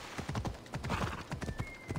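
A horse's hooves clip-clop steadily on the ground in Assassin's Creed Odyssey, a close, brisk rhythm of hoof strikes with a faint tone over the gait.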